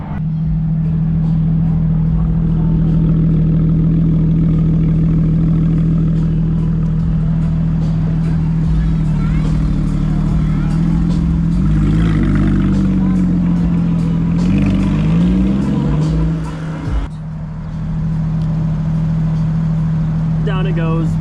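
Volkswagen Jetta wagon on air ride with a new exhaust, rumbling loudly and close at a steady idle, the engine note wavering through light revs midway before a brief dip and return, with people talking over it at a car meet.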